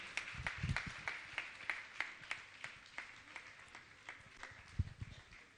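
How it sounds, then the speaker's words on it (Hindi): An audience at a Jain monk's religious gathering claps in steady rhythm. The claps are fairly faint and evenly spaced, with a few heavier thumps mixed in. "जोरदार ताली बजाकर"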